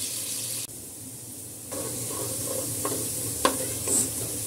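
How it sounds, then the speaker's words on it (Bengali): Potatoes frying in hot oil until light reddish-brown, a steady close sizzle with occasional stirring scrapes and small bubbling spikes, no voices. "আলুটাকে একদম একটু হালকা লাল লাল বাদামি করে আলুটা ভেজে তুলে রাখবো"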